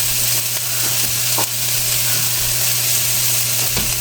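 Pork sizzling and frying in a hot pan over high heat for pork asado, a loud steady crackling hiss with occasional stirring scrapes and clinks.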